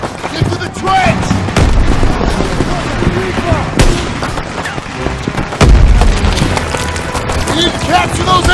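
Grenade blasts and gunfire in Call of Duty WWII combat on the Rhine, with a dense, continuous barrage of shots and heavy booms, one big explosion landing midway, loud and chaotic throughout.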